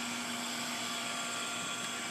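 A vacuum pump evacuates the A/C system of a Jeep XJ, giving a steady, continuous mechanical drone with a constant hum running unchanged throughout, close and alone with no talking.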